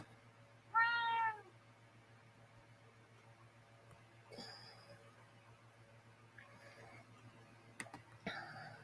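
A cat gives one clear, drawn-out meow near the start, followed by faint ticks, rustles and small clicks over a low steady hum in a quiet indoor room.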